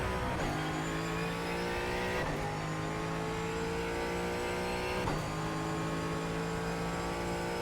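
A Ford Mustang GT4 race car in the iRacing sim, lapping St. Petersburg, holds a loud, steady engine drone. The pitch sweeps up at each of several gear changes, and no one speaks.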